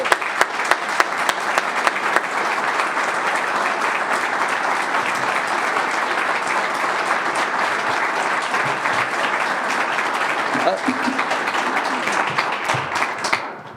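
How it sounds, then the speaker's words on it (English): Audience at a Wake Forest football coach's introduction applauding the players as they stand, sustained dense clapping from a large crowd that tapers off at the end. "I want to give these guys a round of applause."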